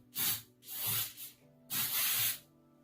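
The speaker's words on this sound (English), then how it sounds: "So I'll just spray on top." Spray paint hisses from an aerosol can onto the top of a plastic bottle in three short bursts, close and fairly loud, with pauses between each spray and no talking.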